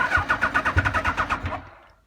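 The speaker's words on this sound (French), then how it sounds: "j'appuie ici, voilà, ça lance le démarreur" A Yamaha FJ1100 motorcycle starter motor cranks in a rapid rhythmic whir for about a second and a half, then winds down and stops, heard close up.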